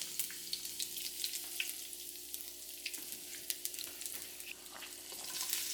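Ginger fries in hot oil in a pan over medium heat for a salt and pepper Cornish hen, a soft continuous sizzle with crackling pops and faint stirring scrapes.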